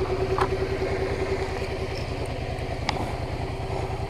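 A motorcycle engine close by while riding around town, with a steady, rapid, pulsing putter at an even, idle-like pace and a faint tone above it.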